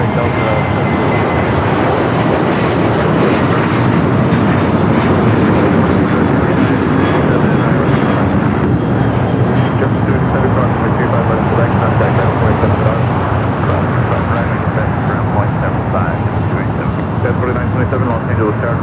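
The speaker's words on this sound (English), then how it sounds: "we got the flight heading to Pittsburgh now rolling down" A Delta airliner accelerates down the runway at LAX, a broad, steady engine roar with wind rush that holds loud and continuous throughout, with faint radio chatter mixed beneath.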